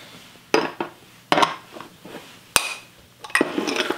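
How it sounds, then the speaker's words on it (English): A masher strikes and scrapes a pot while mashing turnip casserole with brown sugar, pepper and nutmeg: several sharp, uneven metallic clanks with brief quiet gaps, up close. "So we're going to continue mashing now."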